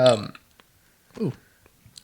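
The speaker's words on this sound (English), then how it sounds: "sorry, I got a burp." A man lets out a short burp during a casual beer-drinking chat, a brief low croaking gulp heard close up between bits of talk.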